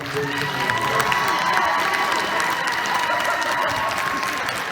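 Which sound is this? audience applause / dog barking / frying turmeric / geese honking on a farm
audience applause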